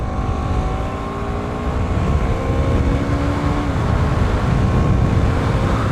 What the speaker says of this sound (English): Change down a gear and accelerate hard.